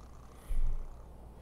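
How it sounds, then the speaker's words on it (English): A pet cat purrs indoors, a short low rumbling burst that swells briefly and fades, soft and close. "Cat is in here, not Misty, but Timmy this time."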